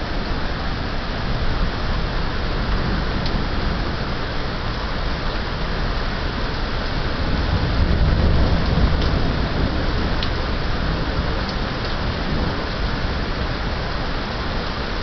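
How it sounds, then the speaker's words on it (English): Heavy rain pours down steadily during a thunderstorm in Raleigh, North Carolina, a dense unbroken roar with a low thunder rumble swelling briefly midway, and no voices. "It's coming down so hard. There's some more lightning. The thunder is just non-stop."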